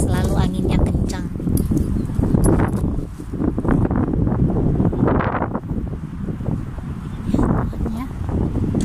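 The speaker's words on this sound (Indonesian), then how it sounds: "Inilah bulan Maret, selalu anginnya kencang." A strong March wind in spring blossom season gusts and buffets the microphone with heavy low rumbling noise, loud and continuous with surging bursts, while faint voices and sounds sit underneath.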